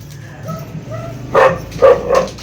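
A few sharp dog barks ring out close by after a quieter stretch, coming in a quick cluster of three.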